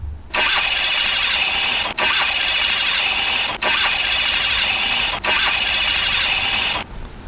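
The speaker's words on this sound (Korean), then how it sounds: "스타트 모터 소음이 끼룩끼룩끼룩끼룩끼룩끼룩끼룩 열심히 잘 돌아간다" A car's starter motor cranks the engine in four long, loud bursts, each a steady whirring grind of about one and a half seconds, with brief breaks between them and no engine catching.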